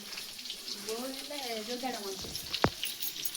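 Potatoes and cabbage frying in a pan in a village home kitchen, giving a steady hissing sizzle with a few sharper spits, while a voice talks over it.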